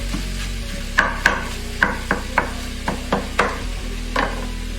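Minced meat being browned in a pan on a stove, with a steady low sizzle and sharp, irregular taps and scrapes of a utensil stirring against the pan, close and clear with no talking.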